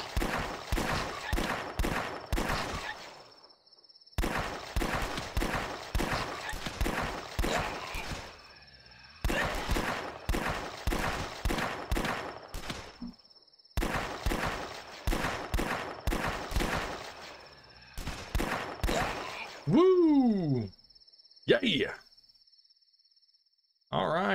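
Revolver gunfire in The Last Stand video game, rapid bursts of sharp shots fired in quick clusters separated by brief pauses, with a reload sound and a descending whistle near the end.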